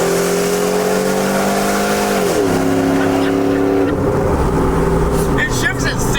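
Big gasoline pickup truck with a 4L80E transmission, engine loud and steady, its pitch climbing, dipping at a shift, then holding before fading into road and wind noise, with faint voices late on.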